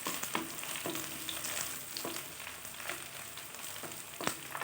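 Curry leaves crackle and fry with browned onions in hot oil for a fish curry, a steady dense sizzle with a few sharp pops and scrapes of stirring, close and alone.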